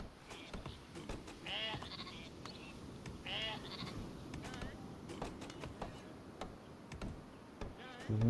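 Sheep bleating in the strategy video game Northgard, a few short wavering bleats over a busy buzzing game soundscape with insect-like hum, moderately quiet and recurring through the scene.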